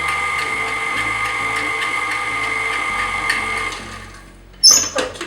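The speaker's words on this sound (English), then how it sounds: "I guess I just blend this until it's light and fluffy" An electric mixer with a small whisk attachment whirs steadily as it beats Earth Balance vegan butter until fluffy, a continuous motor drone that cuts off near the end, followed by a few clattering knocks.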